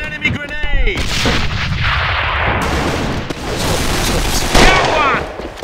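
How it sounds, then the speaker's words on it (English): An enemy grenade blasts in the online shooter AvA, a loud, close boom amid heavy gunfire, with a second burst later; voices are heard shouting at the start and again near the end. "It's an enemy grenade!"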